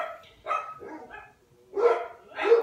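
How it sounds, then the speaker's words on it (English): Dogs barking in a home setting: two short bursts of barks, a pause, then two more loud, close barks. "Crazy dogs."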